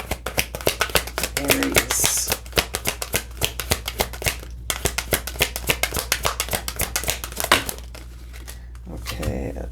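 Tarot cards are shuffled by hand in quick, rapid riffling bursts, a dense crisp flutter running almost continuously, with a brief spoken word over it.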